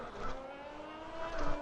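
Race car engine droning at a steady, somewhat muted pitch in low fuel mode during a sim racing game at the Brazil circuit, with a slight swell near the end and no voices.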